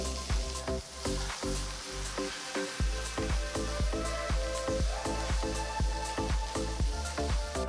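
Chopped onion, ginger and green chillies sizzle and crackle in a hot pan, with repeated rhythmic scraping strokes of a spatula stirring throughout.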